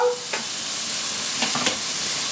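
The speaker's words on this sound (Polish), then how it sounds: "Pokrojoną kiełbasę wrzucam. Na rozgrzaną patelnię głęboką" Sliced sausage sizzling in a hot deep frying pan, a steady close hiss of frying with a few soft stirring scrapes, no talking.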